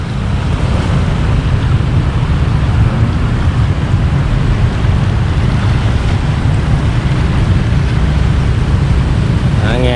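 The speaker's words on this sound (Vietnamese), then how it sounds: "Nghe tiếng sóng vỗ" Waves lap steadily against the bank of the Saigon River at Bach Dang wharf on a weekend, with river buses in service, forming a continuous loud wash mixed with wind rumble across the whole stretch.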